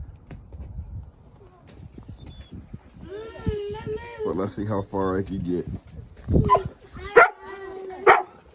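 A dog confined in an FXW playpen at a campsite whines in drawn-out, rising cries, then lets out several sharp barks. A person talks nearby before and between the cries.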